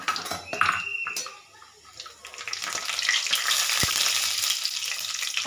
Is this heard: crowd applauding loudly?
no